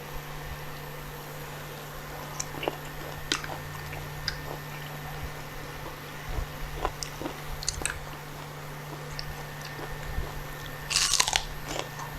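Crunchy chewing of blanched fatty tiger beef eaten with a bitter dipping sauce and bitter melon, close irregular bites and crisp crunches against a faint steady hum, with a louder crunch burst near the end.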